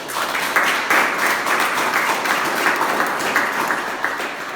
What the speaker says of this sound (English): Give me a good round of applause.